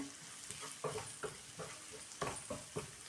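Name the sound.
spices being roasted in a pan for egg curry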